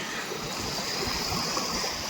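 Steady rushing and trickling of water at an outdoor stream beside a pond, continuous and fairly close, with no voices.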